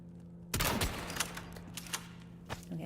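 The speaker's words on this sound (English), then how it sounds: "I'm shooting it." A single close gunshot in the survival horror game Resident Evil, a sharp loud blast at the start followed by a short ringing tail over a low game hum, with faint thuds afterward.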